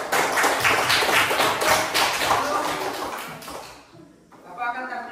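A school class claps hands together in a brisk, loud burst for several seconds, then the clapping stops abruptly and a teacher's voice follows.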